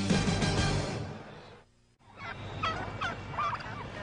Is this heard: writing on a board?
no